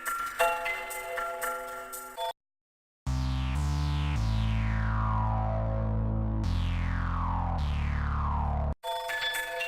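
A cell phone ringtone plays a melodic chiming tone, with bright repeating bell-like notes that decay over several seconds between bursts of electronic tones, clear and up close with no talking.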